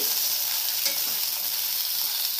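Green chillies and other ingredients for stuffed eggplant sizzle and spit in very hot oil, a steady close crackling hiss that runs without pause.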